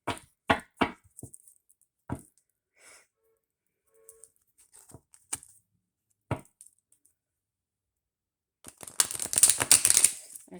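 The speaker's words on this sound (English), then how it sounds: "I pre-shuffled the cards." Tarot cards: scattered soft card taps and flicks with quiet gaps, then a burst of riffle shuffling, the cards fluttering and snapping together up close.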